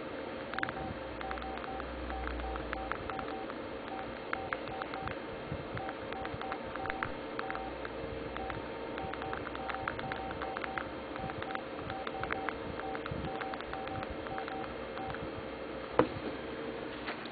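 Short electronic keypad beeps come in quick, uneven succession as text is typed on a Samsung Freeform phone from MetroPCS, fairly faint and close, with no talking.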